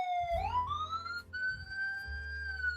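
A police-style electronic siren wails steadily, its pitch sweeping upward and then holding a high sustained tone, loud and close with no talking.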